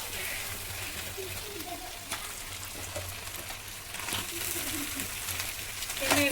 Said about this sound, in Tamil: அடுத்து நண்டை இதில் போட்டு வதக்கணும் எண்ணெயில் நல்லெண்ணெயில் அப்படியே நல்லா போட்டு கிண்டணும்